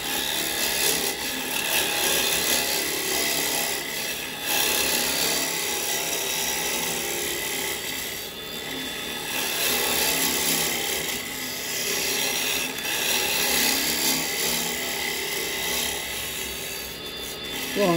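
A carbide woodturning tool cuts a wooden bowl spinning on a lathe, a continuous close scraping hiss that swells and eases in waves, with no talking.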